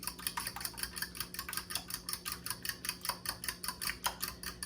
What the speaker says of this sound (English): And we're gonna just whisk this together, get it all mixed.